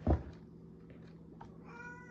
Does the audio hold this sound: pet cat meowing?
yes